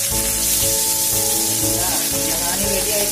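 Alfaham chicken sizzles loudly in a hot pan as it is flipped, a close, constant frying hiss with crackles throughout.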